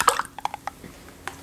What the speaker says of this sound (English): we're going to hear the gentle sound of an ice cube being dropped into water or into a drink.